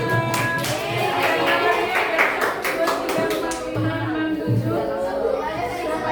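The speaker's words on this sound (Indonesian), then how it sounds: "Tepuk tangan buat kelompok kita." A group claps together in a classroom during a school lesson, with quick rhythmic claps close by, mixed with children's chatter and voices throughout, and the clapping thinning out toward the end.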